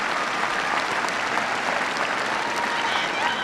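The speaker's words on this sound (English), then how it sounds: "Give her a big round of applause." A living-room audience gives a big round of applause for Lisa, a dense, steady burst of clapping from a crowd throughout, close and loud.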